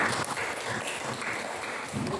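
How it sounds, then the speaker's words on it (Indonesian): A classroom of students claps together in a brief, dense burst of applause, moderately loud and continuous throughout, with faint voices mixed in. "tepuk tangan"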